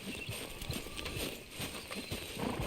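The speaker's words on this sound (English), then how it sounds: "Arthur, get that horse out of camp" Horse hooves clip-clop in Red Dead Redemption 2 as a horse walks through a camp, a quick, fairly steady run of light hoof strikes close by with no one speaking.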